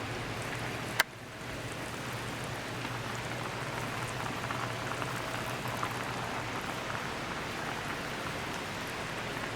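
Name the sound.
rice boiling in a pot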